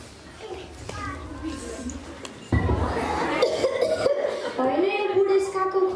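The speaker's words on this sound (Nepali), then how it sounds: "यो बुढेसकाको खोकीले पनि कहिले छोड्ने भएन" An elderly person's cough breaks out amid a short Nepali Christmas drama scene, with people talking around it and occasional chuckles.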